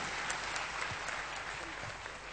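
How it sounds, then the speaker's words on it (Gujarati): An audience at a prize ceremony claps in steady, dense applause for a few seconds, heard fairly faintly from a distance. "આપણે સૌ તાળીઓના ગડગડાટથી વધાવી લઈએ"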